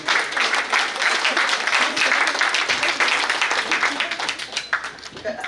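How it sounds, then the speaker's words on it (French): Clapping from an audience at an embassy gala evening, a steady crowd of hands applauding loudly and close for several seconds before tapering slightly. "Ça s'applaudit"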